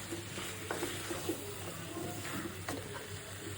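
Long-cut potato strips go into a hot pan with drumstick pieces, cooked with dried loitta fish, giving a faint, steady sizzle with a few soft clinks of stirring.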